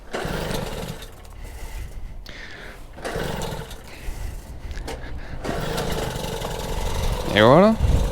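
A restored 1977 Peugeot 103 moped engine idling as it warms up, a steady buzzing putter that rises and falls, with a voice talking over it and a brief rising whine near the end.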